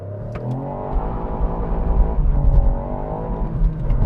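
Hot hatchback held on the handbrake then launched hard, engine rising in pitch as it accelerates through the revs, a close, loud and steadily building run heard alone.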